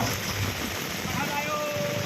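Heavy rain pours down in Patan as a dense, steady wash of hiss with no break.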